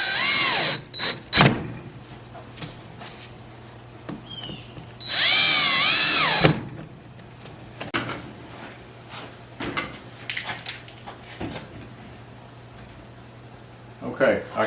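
A power drill drives into a panel of a prefab wooden Aivituvin chicken coop in short bursts, one longer whine standing out, with pauses and light handling clatter between them.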